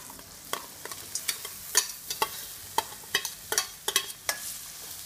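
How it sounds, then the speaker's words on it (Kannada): Spoon scraping and stirring through a pan of sprouted lentils with asafoetida and turmeric, a run of short, sharp clinks and scrapes at an uneven rhythm, close and clear with a faint background hiss. "ಆಫ್ ಮಾಡಿಬಿಟ್ಟು ಇಂಗು ಹಾಗೆ ಅರಿಶಿಣ ಹಾಕಿ ಮಿಕ್ಸ್ ಮಾಡ್ಕೊಳ್ಳಿ"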